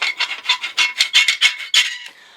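A metal soil blocker tool scrapes through soil in a fast run of gritty, rasping strokes, about a dozen close, loud bursts in steady rhythm with no voices.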